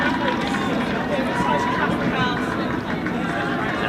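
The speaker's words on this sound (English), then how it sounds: "the crowd is going absolutely wild" Dense crowd roar at a quadball championship match between England and France, a steady wall of cheering and shouting sustained throughout, close and loud without any break.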